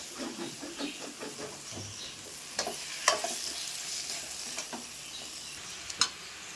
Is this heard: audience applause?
no